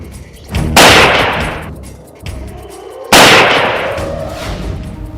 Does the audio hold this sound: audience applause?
no